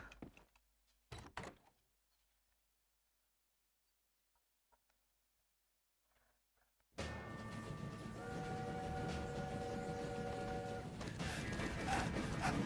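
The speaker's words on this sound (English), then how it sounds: "Stop the train." A train in a video game starts up suddenly after a few quiet seconds with scattered thumps, then rolls on loudly with a steady rumble, clattering and tonal whines.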